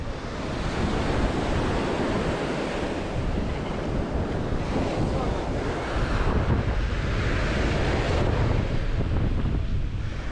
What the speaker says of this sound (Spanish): aquí ahora ya siento que estoy en la playa como tiene que ser